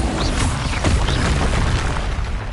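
A Bombarda blasting spell goes off in a video game battle against a troll with a loud, sustained booming explosion that rumbles heavily and stays dense for the whole stretch.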